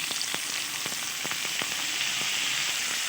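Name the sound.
soaked masoor dal added to hot oil with spices, sizzling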